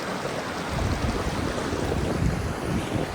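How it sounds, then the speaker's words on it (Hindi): Cold wind blowing across a mountain meadow, a steady loud rushing roar buffeting the microphone, no voices. "ठंडी हवा चल पड़ी है"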